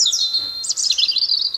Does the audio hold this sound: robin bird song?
yes